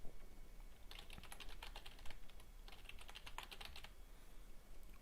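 A password is typed on a computer keyboard during a Windows Server 2012 R2 setup, with two quick flurries of close, crisp key clicks separated by a short pause over a quiet background.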